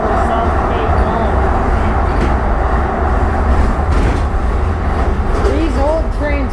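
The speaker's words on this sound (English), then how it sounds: "These old trains can really go when they get up to top speed." A Siemens U2 light rail car on Edmonton's Capital Line runs at speed, producing a loud, steady rumbling roar of wheels and motors with rushing noise throughout and brief squealing tones near the end.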